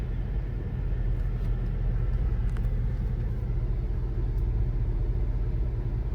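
A pickup truck with a swapped LS V8 and an aftermarket cam drives through a yard, giving off a steady, heavy low rumble that holds at a constant level throughout, with no talking.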